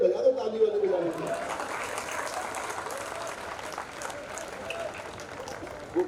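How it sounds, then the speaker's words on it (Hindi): Audience clapping at a Hindi comic poetry gathering, a soft, even patter of many hands lasting several seconds, with a speaking voice over the start and brief vocal bursts at the close. "अरे मिल के बजा दो ताली वाले बजाने से।"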